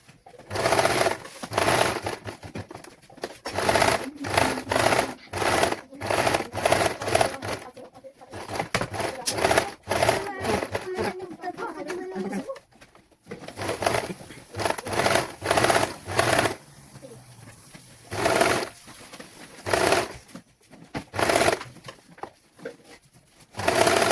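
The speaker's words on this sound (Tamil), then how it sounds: "இது நம்ம கட்டு போட்டுட்டு நான் தைக்க போகிறேன்." A sewing machine stitches the lining fabric of a baby langot in rapid, rattling runs that start and stop repeatedly, while pigeons coo softly in the background.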